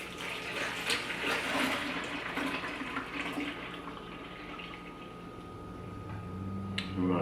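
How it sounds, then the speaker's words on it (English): Beer wort for a one-gallon honey country pilsner flows steadily into a fermenter, a continuous close watery pouring and gurgling with a few small knocks near the end. "So now we're ready to transfer our wort into our fermenter."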